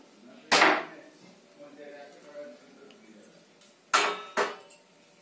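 A heavy weight is lifted off homemade paneer pressed between flat vessels, with a sharp clatter and knock, then later a second pair of close clanks of metal or utensils against the pot.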